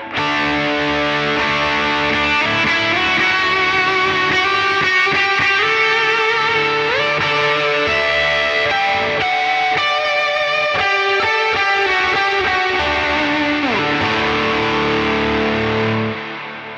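Electric guitar played through a Line 6 HX Stomp with a harsh, prominent reverb: sustained, distorted chords ring out and blur into a thick wash of tails, loud and unbroken, with no talking.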